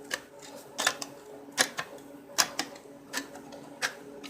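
Hand cutters snipping thin sheet metal, a series of sharp, crisp clicks spaced irregularly about every half second to second, close and moderately quiet against a faint background.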